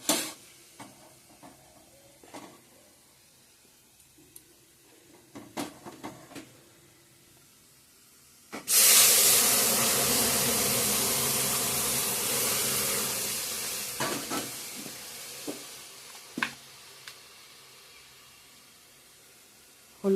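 Pañch phoron spices hit hot oil for Bengali dal tempering, a sudden loud sizzle bursting in partway through after quiet kitchen stirring and clinks, then hissing steadily and slowly fading.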